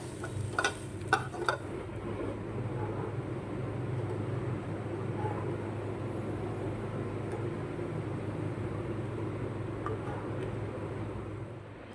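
Coconut frying in oil with cumin, dried red chilli, bay leaf and ginger as a tempering for chana dal: a soft, steady sizzle throughout, with a few sharp taps at the start and no talk.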